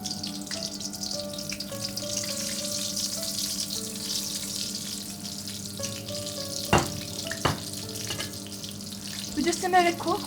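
Salmon frying in half a cup of oil on medium-low heat gives a soft, steady sizzle, kept low under a background hum with a few sharp clicks and clatters near the end.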